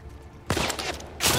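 Gunshots ring out in The Last of Us Part II, with a quiet lull broken by a sharp, loud burst of fire that rattles on, then another loud volley near the end.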